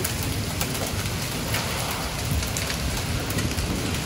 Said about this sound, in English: Hopefully it's only hailing here and not over there.